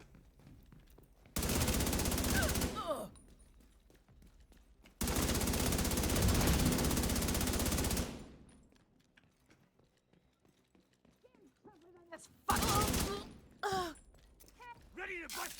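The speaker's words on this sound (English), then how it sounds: "Oh, some shooting." Video game gunfire in bursts: two long sustained volleys of rapid automatic fire, then shorter clipped bursts near the end, loud and close, with quiet gaps between.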